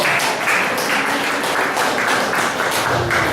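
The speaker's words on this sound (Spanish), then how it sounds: "Un aplauso para que pase, un aplauso." Gym audience applauding to welcome a shy volunteer up front, a steady dense patter of many hands clapping at close range, loud and even throughout with no voices on top.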